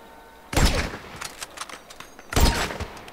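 Two loud, close gunshot blasts in GTA V, about two seconds apart, each trailing into a short echoing rumble, with no talk.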